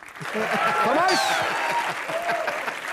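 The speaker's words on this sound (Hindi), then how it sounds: "जोरदार तालियां।" Studio audience applause on an Indian comedy show, loud clapping and cheering from a crowd, with music and a voice over it throughout.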